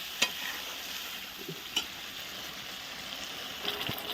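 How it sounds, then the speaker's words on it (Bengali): Spice paste with potatoes is sautéed in a pan over a wood-fired stove, a soft, even sizzle broken by a few sharp scrapes and knocks of the stirring spoon, with no talking. "এখন আস্তে আস্তে মশলাটা ভালো করে কষিয়ে নিচ্ছি"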